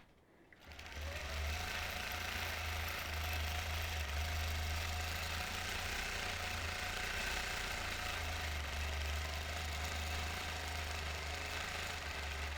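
A quilting machine runs steadily and continuously while stitching a quilt, a loud low mechanical hum with a rapid stitching rattle that starts within the first second and carries on unbroken throughout.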